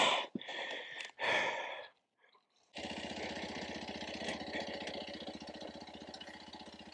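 A Kawasaki KLX230 motorcycle engine runs steadily while being ridden down a steep, loose trail, a close, continuous rough drone after a few seconds of heavy breathing and a brief quiet gap.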